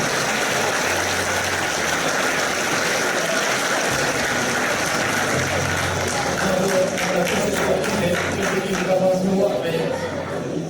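Dense, sustained applause from a crowd cheering athletes at a sports trophy ceremony in Soustons, steady and fairly loud throughout, with voices mixed underneath.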